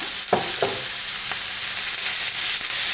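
Minced beef sizzling with onions in a hot pan, a loud, steady frying hiss throughout with a few brief scraping stirs near the start.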